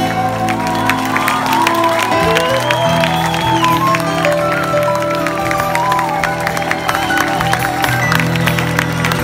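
An audience at a folk music concert applauds and cheers with occasional whoops while the music keeps playing, a dense, loud crowd sound that lasts throughout.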